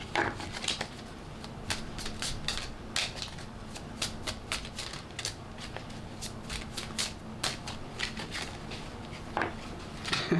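Playing cards are shuffled and riffled to draw another card, producing a steady run of crisp, rapid flicks and snaps close by, with no talking.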